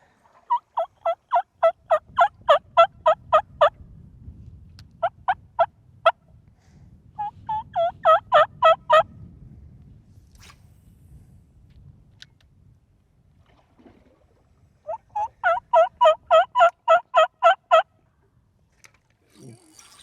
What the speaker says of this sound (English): Is there really a turkey out there?